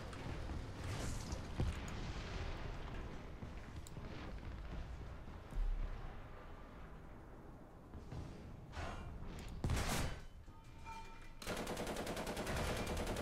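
Machine gun fire in a vehicle combat game, with sustained rattling bursts and heavy thumping impacts over a dense rumbling battle din, loud and continuous with a sharper spike near the end.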